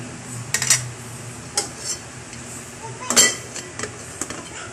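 A spoon clinks against a metal cooking pot as the food is stirred, followed by the lid being set on top. The light, scattered taps and rattles sound close by against a quiet background.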